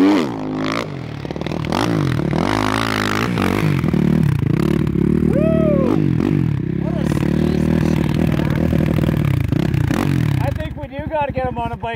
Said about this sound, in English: Brett, the bike's already running.